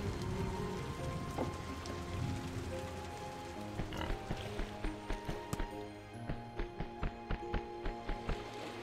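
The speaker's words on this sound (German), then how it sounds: "Ja, schau mal, es regnet. Du musst gar nicht gießen." Rain falls in the block-building game Kubifaktorium as a soft continuous patter, with a rhythmic run of sharp ticks and game tones layered on top, fairly quiet throughout.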